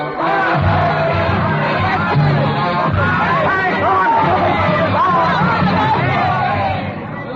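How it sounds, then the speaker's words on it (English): Rioting crowd of ragged patriots armed with pikes swarming through the Rue Saint-Nicaise in a radio drama: a loud, dense mass of shouting and hoarse voices, rising and falling in a steady surge. "Ragged, bearded patriots, eyes hot with the lust of battle, swarm madly in the Rue Saint-Nicaise, their pikes raised high in the air, their voices lifted in a hoarse hymn of hate."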